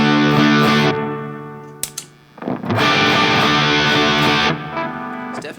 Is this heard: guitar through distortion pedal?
yes